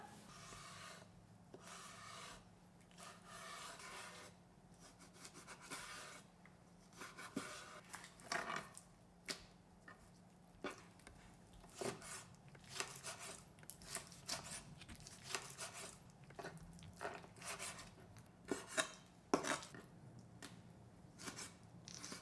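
Fermented squid in a sticky garlic-ginger sauce is chopped by hand with a knife, making a long run of quick, close, irregular chopping taps and wet scraping on a board, with no talk.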